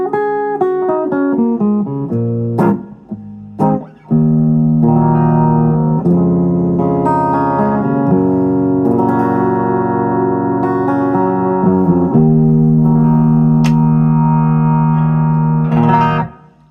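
A 1970s Arbiter (Ibanez) DC Junior electric guitar played with its tone control rolled about halfway down, giving a loud, sustained run of strummed chords and ringing notes with a darker, muffled edge, heard alone without talk.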